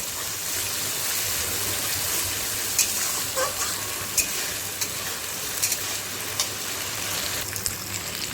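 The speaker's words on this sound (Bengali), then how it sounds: "এবার এটাকে দিয়ে ভালো করে কষাবো" Spice paste stir-fried in a pan, kashing for a home-style Bengali dish: steady close sizzle with a bright hiss and scattered sharp spatula scrapes and taps, continuous throughout without talk.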